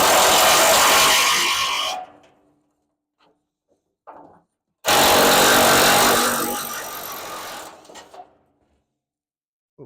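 A power tool works on the headlights of a 1945 International K truck, running in two loud, steady bursts of about two and three seconds with brief clanks and quiet gaps between them.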